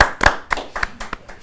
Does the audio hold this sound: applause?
yes